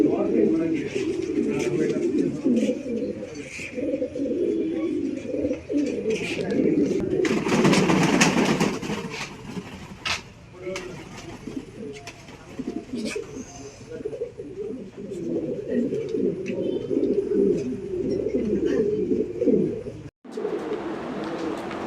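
Pomeranian pigeons in a loft coo steadily in low rolling murmurs, close and continuous, with someone talking over them and a brief rustling burst partway through.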